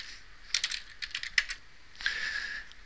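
Typing on a computer keyboard at a desk, a few quick bursts of close, crisp key clicks separated by short pauses, then a longer run of keystrokes, no voices.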